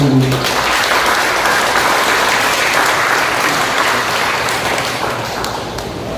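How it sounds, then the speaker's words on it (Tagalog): A church congregation applauds during a sermon, a thick, steady roar of many hands clapping at once, loud and continuous throughout with no talk over it. "Sipagin po tayo sa palakpak para sa Panginoon."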